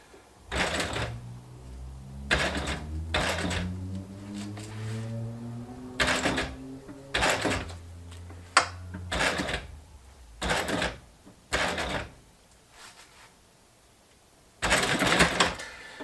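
A sewing machine stitches a homemade sun visor for a Ranger, starting with a lock stitch, running in short loud bursts separated by pauses, close by.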